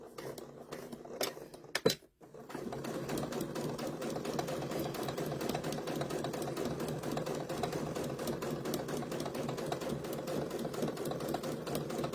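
A sewing machine stitches along the fabric edge of a KitchenAid mixer bowl cover: a few short stop-start bursts, a brief pause, then a steady, close, rapid whirring run that continues without any talking.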